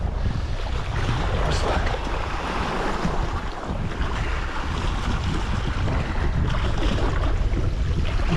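Sea waves surge and wash continuously against a rocky Norwegian shore, with steady gusting wind buffeting the microphone throughout.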